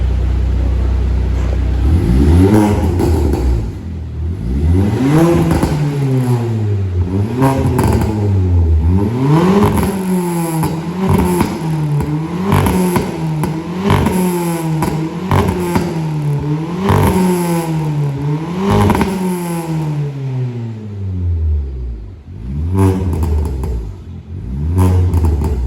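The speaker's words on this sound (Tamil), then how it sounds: "ஸ்ரீராமுடைய வெனம் பர்ஃபார்மன்ஸ் ஸ்டேஜ் 2 தான் போட்டிருக்கேன். ஸோ எப்படி பிஹேவ் பண்ணுது அப்படின்றத பார்த்துடலாம்." A car engine on a Venom Performance stage 2 tune is revved again and again in sharp rising-and-falling sweeps, loud and close, with a few calmer idle stretches and a final blip near the end, and no talking.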